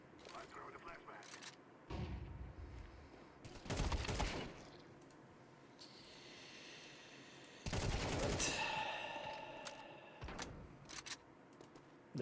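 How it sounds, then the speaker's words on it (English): Shotgun blasts in a tactical video game shooter, several loud bursts in separate clusters across the clip, mixed with clicking mechanisms and surrounded by continuous gameplay noise. "That's a shotgun."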